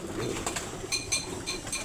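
Faint bird calls and soft cooing from several birds, with light chirps and clinks scattered through a quiet background.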